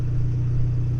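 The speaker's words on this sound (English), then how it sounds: "So the engine is idling and revving a lot smoother than before" Modified Fiat 500 Abarth engine idling steadily, a close, even low hum with a smooth rhythmic pulse and no pauses or revs.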